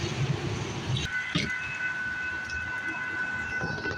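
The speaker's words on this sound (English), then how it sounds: "We got a train coming, everybody." A CSX freight train approaches a railroad crossing, with a steady high warning tone and broadband rumble building into a nearby continuous roar that fills the whole clip.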